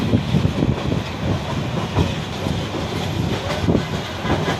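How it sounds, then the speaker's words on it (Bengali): Kishoreganj Express, an intercity train leaving Dhaka Airport railway station, rumbling along the rails with a loud, steady roar and a rhythmic clickety-clack of wheels, close and continuous with no voices. "ছেড়ে যাচ্ছি কিশোরগঞ্জের উদ্দেশ্যে আমতনগর কিশোরগঞ্জ এক্সপ্রেস"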